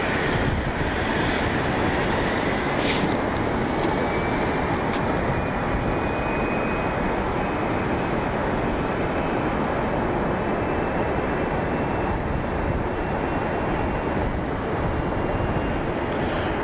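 A United Airlines Boeing 737 MAX 8 jet at Cleveland gives a loud, unbroken roar that holds steady from start to finish, with faint higher whines drifting above it.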